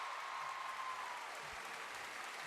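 Home crowd applauding steadily at a men's artistic gymnastics floor event, a dense, even wash of clapping throughout with faint murmurs underneath.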